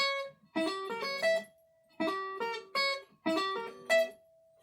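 Electric guitar playing sweep-picked arpeggio phrases, three quick bursts of ringing notes with a sustained tone after each, fairly quiet and with no voices.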